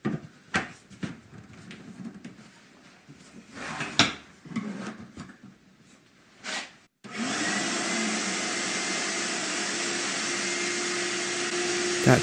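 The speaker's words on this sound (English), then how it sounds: "That shop vac hose is just too small, keeps plugging up all the time." Shop vac with a too-small hose that keeps plugging, first heard as scattered knocks and handling clatter, then switching on into a loud, steady, continuous roar lasting several seconds.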